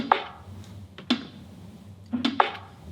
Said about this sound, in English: I filtered this right down, so you get that more kind of like subtle like rocks clacking against each other